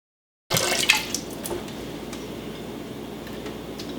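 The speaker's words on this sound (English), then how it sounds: "Okay, and it's dripping" Water trickles and drips steadily through a Berkey gravity water filter being assembled, a soft continuous patter with a few brighter drops near the start, heard alone without talk.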